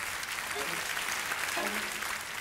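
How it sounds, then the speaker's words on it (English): Theatre audience applauding at the end of a stage performance of Jerry Springer the Opera, a steady wash of clapping throughout with some faint voices underneath. "What do you think of this clapping?"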